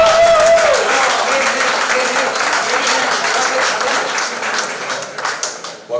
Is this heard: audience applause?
yes